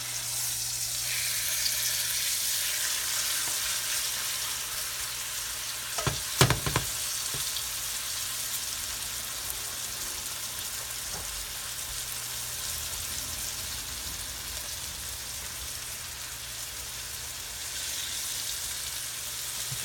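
Mushrooms sauté in a hot pan with a steady, close sizzle that runs throughout, broken briefly by a couple of clanks from stirring or moving the pan.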